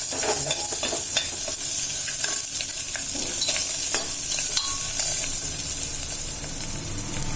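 Sliced onions and ginger-garlic paste sizzle and fry steadily in a pan for brinjal pulao, with a spatula scraping and stirring through the continuous hiss.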